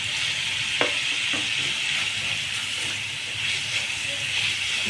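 Chopped garlic frying in a pan gives a steady, loud hiss and sizzle throughout, with occasional light clicks of stirring and some voice present underneath.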